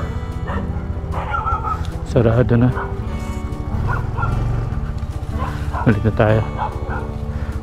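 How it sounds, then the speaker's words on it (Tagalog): A dog barks and yips in short loud bursts near a Yamaha PG-1 motorcycle on a mountain trail in Rodriguez, Rizal, two clear clusters standing out over engine rumble while a rider talks. "Bigla tayo habulin ng aso."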